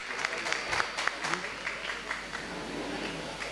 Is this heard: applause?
yes